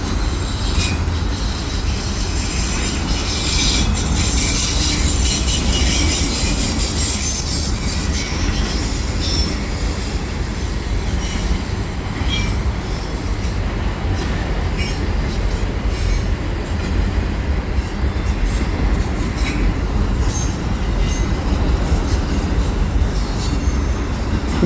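A CN freight train hauling auto rack cars rolls past at Atwater Curve heading westbound, a loud continuous roar of wheels on rail with wheel squeal and rhythmic clicking over joints, close and unbroken throughout.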